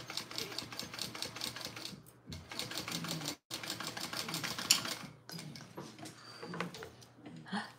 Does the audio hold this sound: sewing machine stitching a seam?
yes